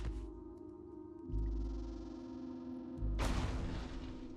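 Blast cannon turret firing in the video game Caves of Qud: two heavy booming shots, the second followed by a loud noisy burst, over a steady low game hum with no talk.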